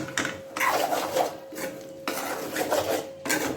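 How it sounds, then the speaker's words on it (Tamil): Egg masala being stirred in a pan, a steady rasping scrape of a utensil against the pan in two long bursts with a short pause between, close and moderately loud with no talk. "சிம்பிளாக ஒரு பெரட்டு."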